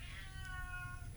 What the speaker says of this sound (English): You're going to hear my stupid cat in the background